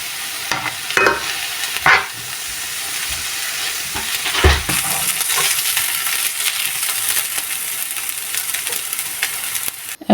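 Sliced onions for a dried red chilli mash fry and soften in a pan, a steady hiss of sizzling with scattered stirring scrapes and clatters, continuous and close for about ten seconds.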